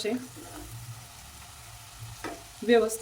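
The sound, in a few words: bread gulab jamun frying in oil on low flame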